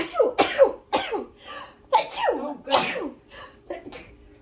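A single sharp sneeze near the start, followed by a startled voice speaking.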